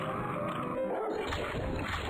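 A dog in the video game Whack The Burglars gives a short, faint whimpering yelp, brief and quiet against a noisy game background.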